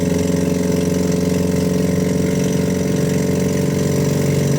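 A 1956 Citroën 2CV AZ engine runs steadily after restarting from a breakdown, a loud, close, even two-cylinder putter with a fast regular pulse and no talk.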